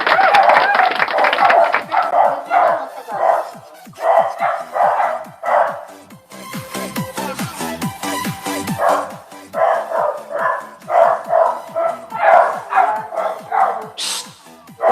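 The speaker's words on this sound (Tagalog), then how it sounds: "Ingay ng aso, guys. Maingay yung aso." A dog barks noisily in repeated loud bursts close by, with a short break in the middle filled by scuffling and other noise before the rapid barking resumes.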